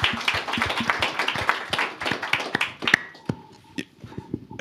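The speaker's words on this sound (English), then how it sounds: "and deserves an applause from my perspective." Applause at the launch event for a next-generation carbon removal facility: a steady patter of claps that thins out into a few sparse, separate claps near the end.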